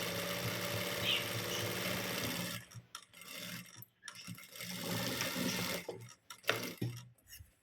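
Sewing machine stitching a straight seam on a blouse, running steadily for about two and a half seconds, then stopping and starting in short bursts with brief pauses and faint handling noise.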